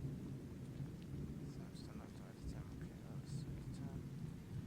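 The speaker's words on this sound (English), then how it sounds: "What a bad storm." Steady rain and low rumbling thunder from a storm in a text-based adventure game hiss continuously throughout, moderately quiet, with faint higher chirps or tones flickering over the wash of rain.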